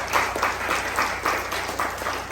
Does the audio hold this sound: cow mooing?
no